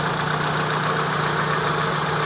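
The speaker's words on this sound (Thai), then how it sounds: "ตอนนี้ความร้อนของเครื่อง ยนต์ได้เอาได้ที่ละ พัดลมของเครื่องยนต์ทำงานละ" Steady whirring drone of a Mitsubishi E-Car with a 4G15 engine, its radiator cooling fan running alongside the idling engine once it has reached operating temperature; a constant close hum with no talk.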